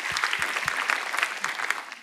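A church audience applauds teachers, a dense burst of clapping from many hands with a few low thumps underneath, steady and lively throughout.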